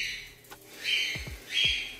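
A bird lets out a few sharp, harsh calls in quick bursts, fairly near, with faint low thumps in between.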